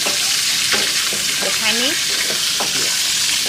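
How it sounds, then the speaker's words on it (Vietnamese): Food frying in coconut water in a pan, with a steady sizzle and stirring throughout and a few short spoken words over the top. "Mình chiên cái này thì đỡ sợ khét hơn nha cả nhà"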